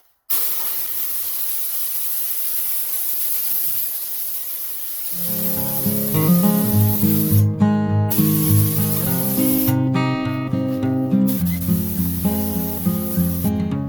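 A steady, loud hiss of a spray gun applying coating to a truck's rocker panels runs continuously, joined midway by a droning motor hum with pulsing tones, briefly cutting out twice.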